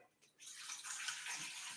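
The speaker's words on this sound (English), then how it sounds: "I'm getting my doggy some water." Water pours into a dog's bowl with a steady splashing rush that starts abruptly after a brief quiet moment, then keeps running at an even level, close by and with no speech.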